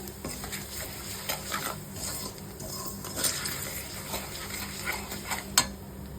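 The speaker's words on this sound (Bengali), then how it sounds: "আমি এখানে গুঁড়ো মশলাগুলোকে দিয়ে দিলাম। এইবার ভালো করে ভাজা ভাজা করে নেবার পরে" Ground spices frying in a pan for khichdi with sona moong dal, giving a steady low sizzle with stirring and scraping of a utensil against the pan, plus a sharp clink near the end.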